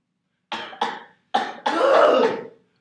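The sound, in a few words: cough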